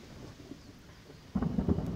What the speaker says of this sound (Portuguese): Isso é um trovão.